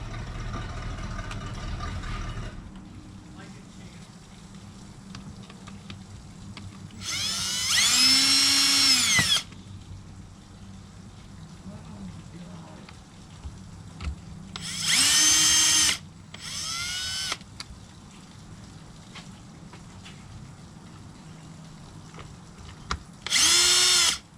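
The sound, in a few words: power tool tightening a part on a 2002 WRX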